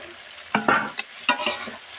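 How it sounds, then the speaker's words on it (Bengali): Fried pointed gourd and potato pieces are stirred into sizzling spice paste in a pan, giving several sharp scraping strokes and brief sizzling bursts, close and fairly loud. "আমি এবার এর মধ্যে পটল ভাজা আর আলু ভাজাটা দিয়ে দেব।"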